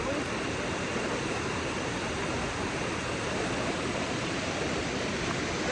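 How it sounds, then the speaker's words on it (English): Rain-swollen water rushes down a hillside on a wet, dark day, a dense, loud, unbroken roar of flowing water with no talk over it. "You see the water coming down on the other side,"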